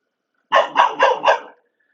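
A dog named Stevie barks four times in a quick, evenly spaced burst, close and loud, with silence before and after.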